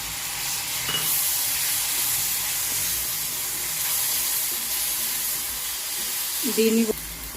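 Tomato puree, made from one large tomato, hits a hot pan for a spicy egg and okra tamarind stew, giving a steady close sizzle and hiss, with a brief stirring clatter near the end.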